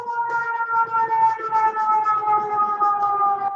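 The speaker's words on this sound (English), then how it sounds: "fire siren noises coming up, I'm going to apologize in advance. Sometimes we get sirens," A siren wails continuously, steady tones holding with slight wavering, heard from some distance without talking.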